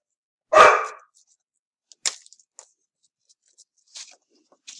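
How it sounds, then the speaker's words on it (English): Dogs give one sharp, loud bark indoors, followed by a quieter, clipped bark and a few faint scattered yips and thumps in an otherwise quiet room. "Excuse my dogs again."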